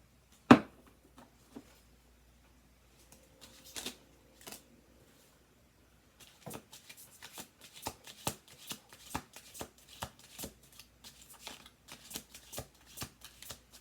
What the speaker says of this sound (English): We'll do two more shuffles.